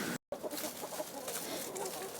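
Chickens cluck softly inside a ramshackle backyard coop during a winter cold snap. Scattered low clucks sit under a steady, noisy background hiss.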